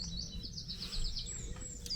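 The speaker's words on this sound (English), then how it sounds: "I don't mind the farm animals, I don't mind the birds." Birds chirp in a rural countryside graveyard, a series of quick repeated high tweets in a rapid run, then a few scattered calls, moderately near over a low rumbling background.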